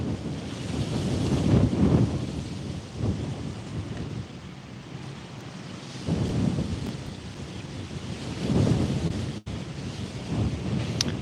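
Outdoors, wind gusts buffet the microphone in a rough, roaring rush that rises and falls in several swells, with water-like surging beneath and no voices.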